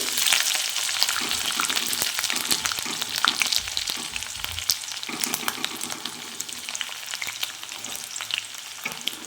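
Chopped garlic and ginger fry in hot oil for an egg tadka, giving a loud, continuous crackling sizzle with occasional stirring scrapes and no voices.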